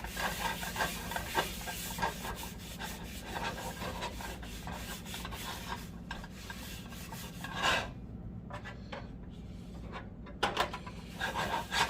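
Crisco shortening is rubbed by hand over a cast iron pan, giving close, repeated scraping and smearing strokes with a brief quieter pause partway through.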